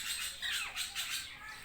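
Ringneck parrots in a large free-flying aviary give a burst of harsh, squawking calls, several overlapping screeches close by and fairly loud, with no talking.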